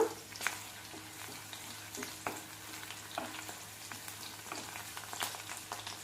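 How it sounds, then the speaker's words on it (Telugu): Onion pieces with dried red and green chillies frying in hot oil, a soft, continuous crackling sizzle with a few faint stirring taps, heard close but fairly quiet. "ఉల్లిపాయ ముక్కలు ఇవి కొంచెం వేగాలన్నమాట"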